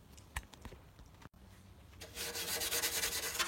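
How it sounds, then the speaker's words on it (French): 400-grit sandpaper rubs over a surface to clear away grime, starting as a few scattered light scuffs and then building into steady, brisk back-and-forth sanding strokes up close. "on va attaquer à poncer avec ça"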